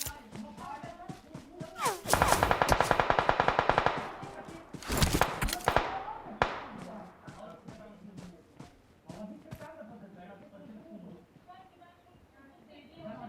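Gunfire in the shooter game PUBG, with dense rapid automatic bursts of shots for about two seconds, then a second sharp volley and scattered fainter shots, while players talk over it.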